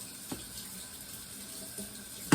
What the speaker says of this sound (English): But I have to rinse my rice a little bit.